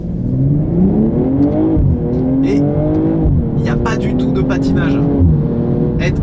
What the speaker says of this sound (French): Là, on est sur une 4 roues motrices, j'ai tout déconnecté, j'ai mis en sport max.